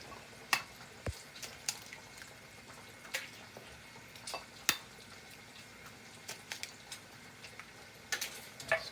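Two eggs cracked on a kitchen counter for carbonara while pasta cooks, giving a few faint, sharp taps and cracks spread over several seconds against quiet background noise.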